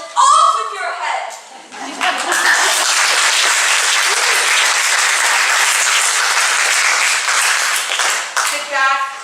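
A theatre audience applauds at a summer 2021 youth stage performance of Alice in Wonderland. A voice speaks briefly at the start, then loud, sustained clapping fills the room and fades near the end as speech returns.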